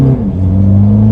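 A Mercedes-style car with a torque converter automatic gearbox launches hard, a loud, close engine drone that holds steady then drops in pitch as it shifts, with no talking.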